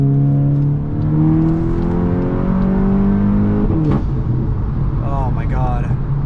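A tuned Volkswagen Mk8 GTI accelerates hard from inside the cabin, its engine note climbing steadily through the gears with a brief shift break, loud and continuous, ending with crackly pops from the exhaust.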